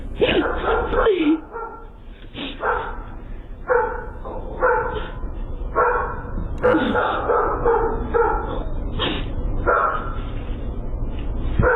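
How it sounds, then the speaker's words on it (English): Several dogs barking at night, caught by a doorbell camera, with a steady series of loud, close barks and yips over about twelve seconds against a grainy background hiss. "Y'all don't hear these loud ass dogs barking?"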